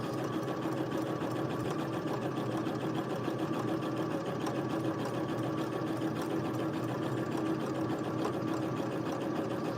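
A domestic sewing machine runs continuously for free motion embroidery, a steady fast buzzing hum with an even rhythmic chatter, close and moderately loud with no voices.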